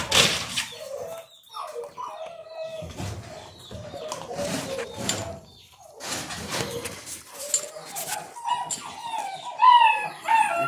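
Dogo puppies close by let out a mix of high whimpers, whines and short yaps that come in irregular bursts.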